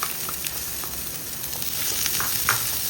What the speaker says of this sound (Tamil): இப்போது வெங்காயத்தை சேர்த்துக்கலாம்.